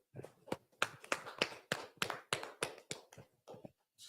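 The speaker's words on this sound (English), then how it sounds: "Let's clap it up." Small group clapping at a class gathering, a run of about fifteen sharp, close hand claps in an uneven rhythm, clear and dry with no talk over them.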